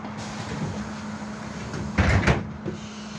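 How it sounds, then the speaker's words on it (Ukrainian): A steady trolleybus engine hum, from a BKM-321 in Minsk, carries a brief clunk and rattle of the door sliding shut near the end. "Дверь зачиняется."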